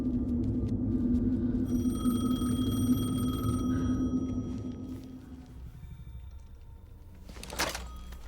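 A telephone rings in the video game Alan Wake 2 as a sustained electronic trill over a low droning ambience, followed by a brief rustling clunk near the end.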